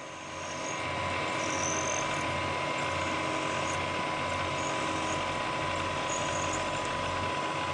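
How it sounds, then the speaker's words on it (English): A number 9 drill bit bores a hole about 13 mm deep for an M6 thread in a vintage Hobart MIG welder part; the machine gives a steady, even whirring hum with a faint high whine throughout. "So I've got a number 9 drill in here, and we'll drill down about"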